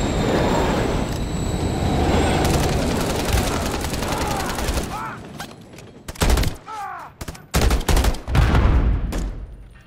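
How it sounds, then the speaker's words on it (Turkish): A train rumbles past in Call of Duty: Modern Warfare 3 beneath a dense, continuous roar of gunfire, then the scene breaks into sharp, separate shots and bursts. "Tren geliyor anam."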